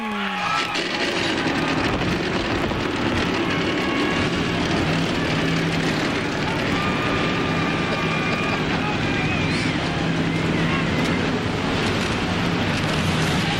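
A dense, steady roar from the 1999 NASCAR Winston Cup stock car engines at Phoenix fills the whole stretch as they fire up. The crowd of motors rumbles and drones continuously, with a broadcast voice faintly mixed in.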